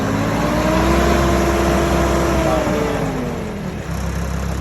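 A Vermeer CTX100 compact tool carrier's engine fires up and runs, a loud mid-pitched motor rising in revs then settling, close by with no talking.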